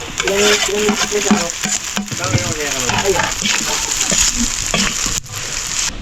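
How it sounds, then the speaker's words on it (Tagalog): Chicken tocino frying in a pan, a loud, steady sizzle with occasional stirring scrapes, close by, while people talk over it. "lagay na natin itong chicken style. Chicken tocino."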